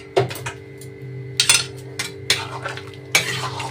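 A spoon works whisked yogurt into mutton curry in a pot over a low flame, making about six distinct scraping strokes against the metal over a soft, continuous simmer with no talk.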